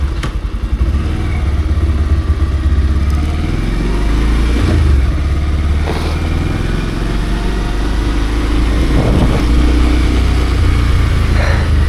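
A Bajaj Pulsar 150 BS6 2022 motorcycle rides steadily with a continuous close engine drone, its pitch shifting as gears change, wind and road rumble underneath throughout.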